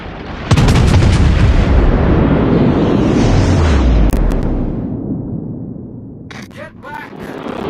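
Naval artillery in a video game sea battle booms with a loud, sudden blast and a long rolling, fading rumble, while game voices speak over the tail.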